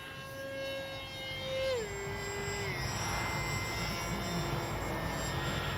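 A HobbyZone AeroScout RC park-flyer plane hums overhead with a steady electric motor whine that dips in pitch as it passes, mixed with wind noise, while someone talks over it.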